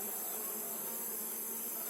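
A populous honeybee swarm buzzes at the entrance of a hive box, a dense, steady, continuous hum of many bees close by with no voices.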